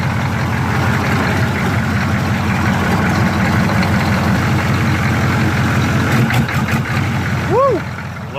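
A 1987 Monte Carlo with a swapped-in 6.2L diesel engine runs steadily at idle, a loud, close, even clatter that continues throughout with a brief extra noise near the end.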